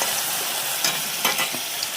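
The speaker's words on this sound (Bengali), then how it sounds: "ভেজে নিচ্ছি আলু" Potatoes frying in a pan in a home kitchen, a steady close sizzle with occasional stirring scrapes and clicks, heard alone without voices.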